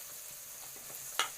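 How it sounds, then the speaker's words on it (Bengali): Onions frying in a pan, a soft, faint sizzle ending in a short sharp clink or scrape of a utensil. "এখানে তো হচ্ছে পেঁয়াজ ভাজা হচ্ছে"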